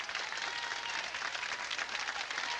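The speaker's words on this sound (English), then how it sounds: "Round of applause for these nice people." Sustained clapping from an audience, even and unbroken, moderately loud from start to finish.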